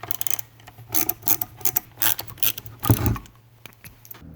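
Small T8 security Torx screws being backed out of a Ryobi OP4026 95Wh power tool battery pack, giving a series of close, light metallic clicks and scrapes in uneven bursts, with one louder knock near the end.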